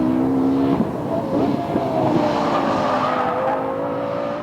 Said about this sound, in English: It's been quite a while since I've been back behind the wheel of this LFA.